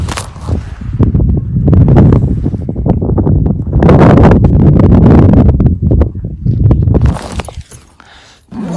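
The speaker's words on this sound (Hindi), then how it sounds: "बहुत ज्यादा हवा चल रही है" Strong wind gusts hard across a snowy high-altitude mountain camp during snowfall, a loud, rough, continuous roar buffeting the microphone for the whole stretch, easing briefly near the end.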